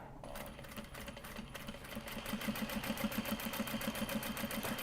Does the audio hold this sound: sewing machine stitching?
yes